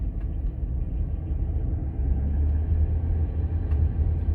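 A Range Rover L322 rolls along slowly at about 10 miles an hour, giving a steady, loud low-end road rumble with a muffled cabin drone and no other distinct sounds.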